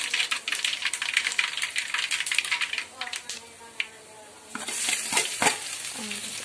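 Mustard seeds fry in hot oil with crushed garlic and cumin, making a crackling sizzle with small pops that eases midway and then swells again while a voice talks over it.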